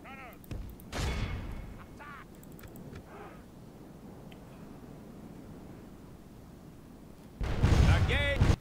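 Cannon fire in the Medieval 2 Total War game: booming artillery shots, one early and one loud blast near the end, over a battle soundscape while someone talks.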